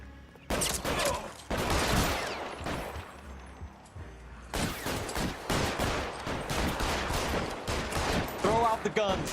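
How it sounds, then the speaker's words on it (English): A gunfight in the video game L.A. Noire brings rapid volleys of sharp gunshots, bursting in dense clusters with brief gaps, loud and close, while voices talk between the shots. "おお、銃撃戦か。"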